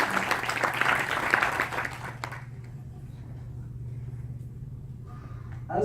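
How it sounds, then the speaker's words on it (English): Applause from an audience at an initiative gathering fills the opening two seconds as a dense burst of clapping. It then fades quickly into a quiet room with a low hum, and a brief stir comes near the end. "another round of applause is in order for Mubadara's team"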